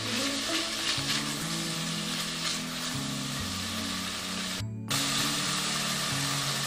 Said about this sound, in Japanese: でこれをお鍋に入れますね。 そして炒めていきます。